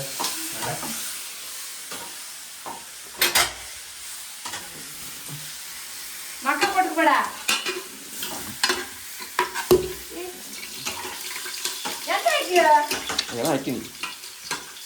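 Whole garlic cloves sizzle and pop in hot oil for a homemade biryani, a close crackling hiss with sharp bursts and stirring, while people talk over it at times.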